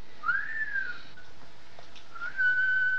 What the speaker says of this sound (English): Must be the whistle he swallowed 10 years ago